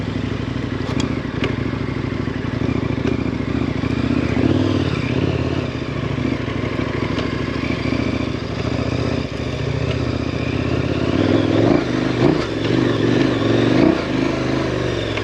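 A KTM 1090 Adventure motorcycle rides along a trail with a steady, close engine drone, loose clatter and scraping from the terrain, and short throttle surges near the end.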